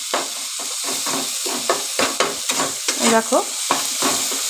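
Onion, garlic, tomato and green chilli frying in a pan, a steady sizzle broken by repeated scrapes and stirring strokes of a spatula, close and fairly loud, with a brief spoken word.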